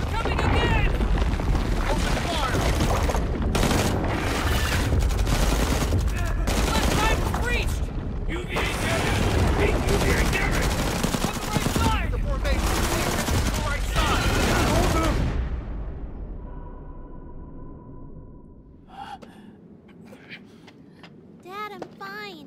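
Dense sustained gunfire and explosions from a sci-fi action movie, loud and continuous for about fifteen seconds alongside shouted voices, then fading to quieter scattered sounds and a tone.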